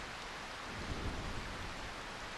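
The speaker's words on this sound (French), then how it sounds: "Cette pluie n'est-elle pas fantastique?" Steady rainfall in the video game Final Fantasy IX, a dense, continuous hiss of rain with a soft low rumble swelling briefly in the middle, no voices.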